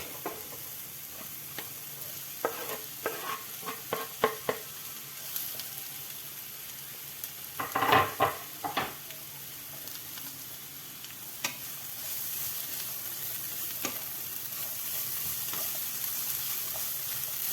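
Sweet bell pepper fried with chicken and vegetables in a pan: scattered clinks and scrapes of stirring over a soft sizzle, with a louder cluster of clatter midway and a steadier hiss toward the end.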